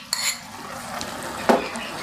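A spoon gently mixing mayonnaise into Mexican rice with vegetables in a pan, giving a couple of soft clinks and scrapes over a faint background hiss.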